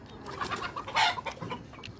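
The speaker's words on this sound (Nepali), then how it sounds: "यहाँ कुखुराहरू एकदमै धेरै मात्रामा रहेछन्" Chickens at a rural spot give several short clucks and calls at close to medium range, in an uneven rhythm. One louder call stands out near the middle.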